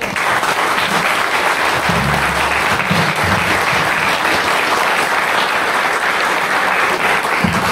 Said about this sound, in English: give a good round of warm applause, an introduction, and welcome to Henry Bell on the question of Maclean